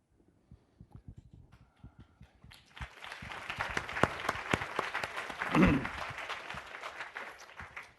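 Audience at an event on the civil rights movement bursting into applause, sparse scattered claps at first that build into a full sustained ovation from a large crowd.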